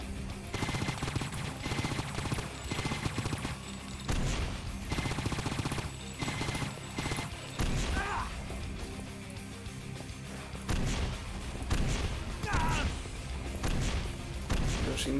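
Missiles and weapons fire in the shooter game Painkiller: Black Edition: rapid, dense bursts of blasts and thuds, loud and continuous, with a couple of brief pauses.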